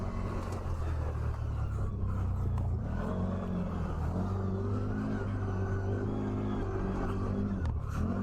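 A CFMOTO ZForce 1000 side-by-side with a 1000cc engine climbs a hill at half throttle, its engine droning and shifting pitch with a steady rumble, close and loud throughout.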